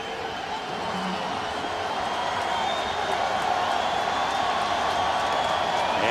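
Stadium crowd at a 2009 NFL game between the Dolphins and the Titans roars steadily and loudly for the full stretch, a dense, unbroken wall of cheering with no clear breaks.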